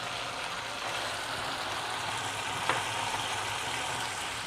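Tomato paste hitting a hot frying pan with capsicum and onion, giving a steady, close, continuous sizzling hiss with one small click near the end.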